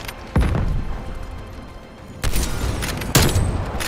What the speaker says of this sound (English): That gun does not shoot that fast, bro.